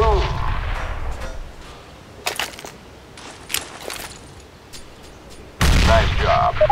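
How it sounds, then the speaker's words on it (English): A thrown grenade in Counter-Strike: Global Offensive, with a few sharp blast-like bursts in the middle and a loud, heavy explosion rumbling near the end, over a low game background. "There are many different types of throwable weapons in the field. For this test, we have one. It's the kind that goes kaboom."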